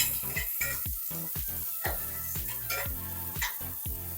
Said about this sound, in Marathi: हा कांदा चांगला परतून घ्यायचा।